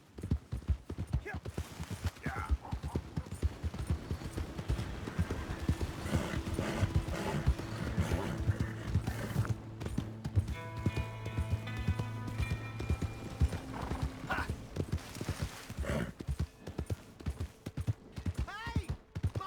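Horse hooves clip-clop steadily and rhythmically throughout a Red Dead Redemption 2 game scene, with an occasional whinny, some background music and a few bits of talk over the close, continuous hoofbeats.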